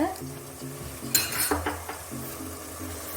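Turmeric powder and spices being sautéed in a pan for a sardine curry, with soft sizzling and a few spoon scrapes and clinks against the metal, close and fairly quiet, with no talking.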